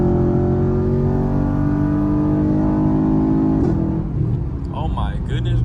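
A Camaro SS V8 engine roars close and loud as it accelerates, then its pitch drops sharply as it downshifts, with people talking over the engine.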